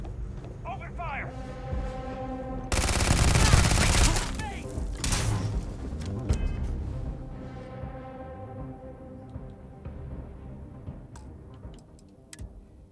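Gunfire in the video game Starfield, a burst of dense, loud shots followed by scattered ticking and clicking effects that fade out, with a voice speaking over parts of it.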